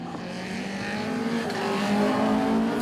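SSC race cars lapping Ring Djursland on a wet track, among them a Corsa with a Honda engine and a BMW with a Corvette engine. A harmonic engine drone swells steadily louder as the cars approach, with no voices.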